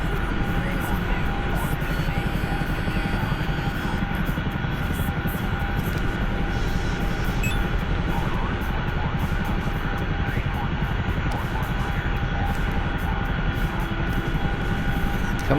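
Aircraft engine droning steadily in flight within a Syria war video game, a constant close hum with faint intermittent clicks, while a person talks over it.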